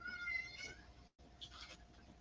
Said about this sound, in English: My daughter's cat.